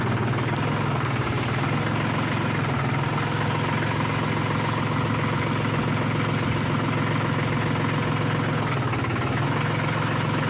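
A tractor engine idles steadily on a farm, a close, continuous low rumble with a rhythmic knock that never lets up, no voices over it.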